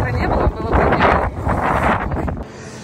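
Strong, cold wind buffets the microphone outdoors in a steady roar with gusty swells, loud and close, then eases near the end.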